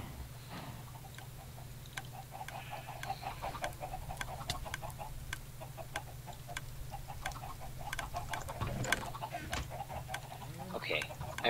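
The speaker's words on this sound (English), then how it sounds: "Is that all the chickens in here?" Chickens cluck repeatedly in a Minecraft pen, a steady scatter of short game-animal calls over a constant low hum, with a person talking now and then.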